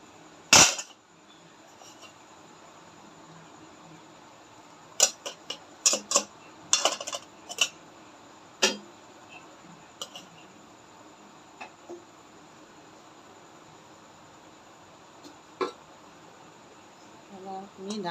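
Metal plate set into a preheated wok on a stove for baking bun bread: a sharp metallic clank followed by scattered light clinks and taps against a quiet background hum.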